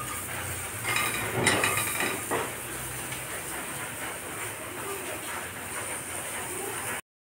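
Onion, garlic and green chillies stirred in a hot pan give a broadband frying hiss with scraping knocks of a spatula early on, and a steady low hum runs underneath.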